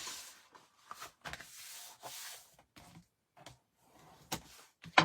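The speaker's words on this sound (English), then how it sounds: "we're going to give these a little burnish." Bone folder burnishing a scored fold on 21 x 30 cm craft card for a gatefold, a few short soft rubbing strokes with quiet pauses between, close and faint.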